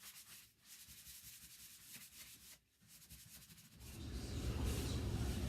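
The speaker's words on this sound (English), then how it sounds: "So you just sand that off a little bit to blend it" Sandpaper rubbed over dried paint on a chippy salvaged piece to blend the color, quiet close scratchy strokes that grow louder and rougher toward the end.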